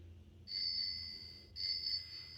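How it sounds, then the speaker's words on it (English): A bicycle bell sound from a children's sound book rings twice, thin bright metallic trills with a short gap between, played alone and fairly faint against a quiet room. "Little lamb ringing a bicycle bell as he goes."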